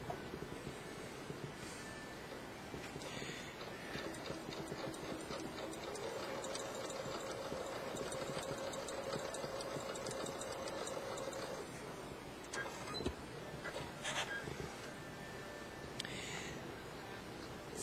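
A home sewing machine topstitches with a satin foot near a fabric edge, giving a faint, steady mechanical whir that runs for several seconds before stopping, with a few quiet clicks.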